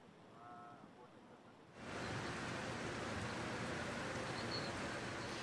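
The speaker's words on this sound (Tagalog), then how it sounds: "medyo lumalakas na ulit yung ulan" Steady heavy rain pours down over a flooded city street near a rotunda, a broad continuous hiss that swells in after a quieter opening moment and stays loud and even.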